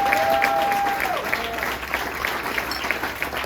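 Audience applause at a celebration speech, steady clapping from a crowd across the whole stretch, with a brief tone and some murmuring in the room underneath.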